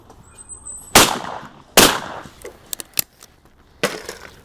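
Shotgun shots fired at clay targets ring out as two sharp, loud blasts close by, followed by a few smaller clicks and snaps and a third report near the end.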